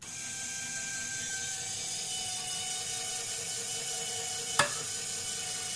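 A line puller straining 40-pound Sufix Superior monofilament tied in a six-twist dropper loop during a knot strength test, a steady mechanical whir with faint creaking tones and one sharp snap or click near the end.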